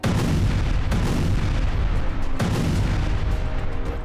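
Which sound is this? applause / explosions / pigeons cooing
explosions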